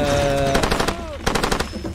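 Bursts of automatic gunfire in the video game Far Cry 2, several rapid volleys of sharp, loud shots with brief gaps between them and a ringing tone at the start.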